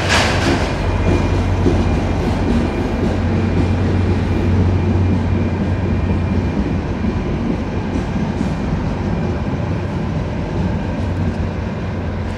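A loud, rumbling diesel locomotive engine throbs steadily at close range in a station at night, with rail noise and clatter layered over the drone.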